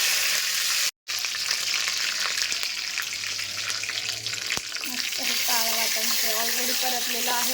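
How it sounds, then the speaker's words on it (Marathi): Cumin, mustard seeds and curry leaves crackle and sizzle in hot oil as tempering for a matki (moth bean) dish, a steady close frying hiss throughout with a voice briefly talking near the end. "तेल गरम झालं जिरी मोहरी चांगली तडतडली आहे"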